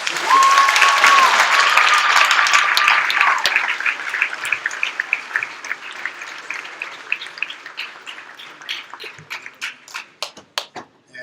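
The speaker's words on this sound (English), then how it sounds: "let's give all of our participants in this first round a round of applause." An audience at a college debate between Republicans, Democrats and Young America at MSU applauds the participants: loud, dense clapping that starts full, then thins out into scattered individual claps before fading.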